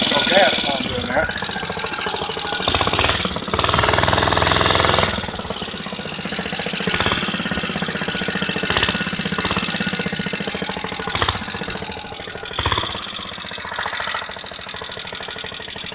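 A small engine fitted with a diaphragm carburetor idles steadily and fairly loud for the whole stretch, its knocking, slightly uneven rhythm running unbroken with a few brief dips.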